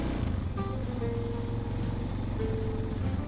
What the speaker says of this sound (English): Bike seems to be idling okay.